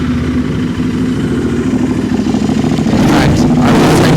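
A Royal Enfield Classic 350 single-cylinder motorcycle with an aftermarket exhaust idles nearby in a steady, loud thumping drone, with a few light blips of throttle toward the end and no talk.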